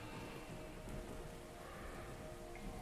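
Steady rain pours down in the Cthulhu adventure game Gibbous, a continuous dense patter on surfaces with no gaps, even and close throughout.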